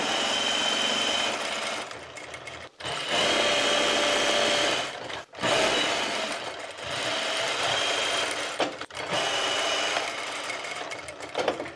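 A sewing machine runs in sustained bursts as it stitches a seam 1 cm in along quilted, padded fabric, with its steady motor whir broken by a few short pauses between passes; no one speaks.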